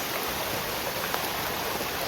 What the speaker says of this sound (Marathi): आता आपल्याला हा छोटासा धबधबा बघायला भेटलेला आहे.